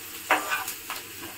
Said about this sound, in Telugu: ఉప్పు వేసుకొని అంతా ఒకసారి బాగా కలుపుకుందాము.